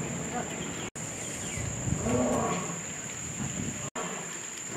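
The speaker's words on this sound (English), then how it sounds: "You hear the lion over there." A single distant lion roar at a zoo in Norfolk, Virginia rises and fades in the middle, low and drawn out, over a steady high insect drone and faint outdoor background.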